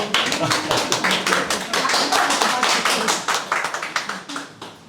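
An audience at a gallery artist talk claps, a brisk burst of overlapping hand claps that starts strong, holds briefly and then thins into scattered separate claps as it fades.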